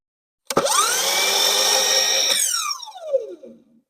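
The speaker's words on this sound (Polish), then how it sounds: "Żeby uruchomić piłę, tak jak już wcześniej powiedziałam, trzeba wcisnąć ten przycisk i pociągnąć tą wajchę do siebie." A Ryobi 18V ONE+ cordless miter saw spins up with a sharp whine, holds a loud, steady high-pitched cut for about two seconds, then winds down as the blade coasts to a stop, close and alone.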